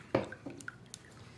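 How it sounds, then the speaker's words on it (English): A paint brush is swished and tapped in a water cup, giving a few soft wet drips and squishes, faint and close, with no voices. "I'm gonna wash the brush."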